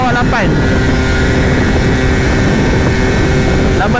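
A Yamaha TZM motorcycle engine runs at high RPM while riding, a loud, continuous buzzing two-stroke drone with wind roar. A brief pitch sweep comes near the start, and the tone stays steady and close.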